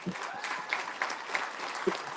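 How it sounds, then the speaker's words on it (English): An audience at a drag racing awards night applauds a Junior Dragster Rookie of the Year honoree, a brief, moderately loud burst of steady clapping with a few louder individual claps. "Let's give a big round of applause for Mr. Logan Putman."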